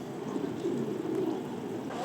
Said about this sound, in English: the birds are enjoying this pool.